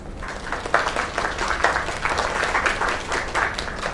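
A crowd applauding in the video game Lake after a singer's performance, dense continuous clapping with no voices over it, holding steady for several seconds.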